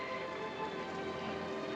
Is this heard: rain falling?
yes